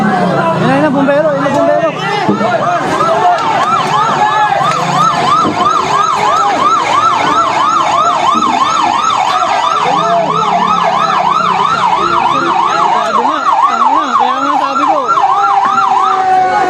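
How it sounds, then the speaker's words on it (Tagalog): A fire truck siren wails loudly in rapid, repeated up-and-down cycles as it arrives at a residential fire in Paranaque, with a crowd of people talking and calling out around it. "Ayun na, yung bumbero."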